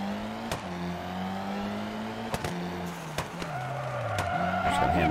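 Rally car in WRC 2 on PS3 under handbrake, a steady engine drone broken by sharp skid bursts and tire squeals as the revs drop and climb through a hairpin, loud and close with no talk.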